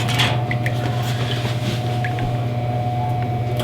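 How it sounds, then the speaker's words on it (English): An egg washing machine on a poultry farm, fed with air bubbles from a small compressor, gives off a steady mechanical hum and bubbling drone at moderate volume, with faint clicks on top. "This is our fancy egg washing machine."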